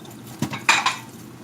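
Dishes and cutlery clatter during hand washing, a few quick clinks and knocks of plates and silverware against each other, close and sparse against a quiet background.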